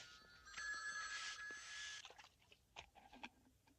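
Several telephones ringing together in John Carpenter's film The Fog, a bright trilling bell lasting about a second and a half, followed by scattered clicks and knocks, faint overall.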